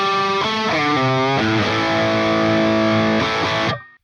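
An electric guitar played through a Friedman IRX amp modeler with the reverb switched off rings out in loud, distorted, sustained chords that cut off abruptly at the end.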